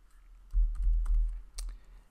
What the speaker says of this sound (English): and now I will type S3.bucket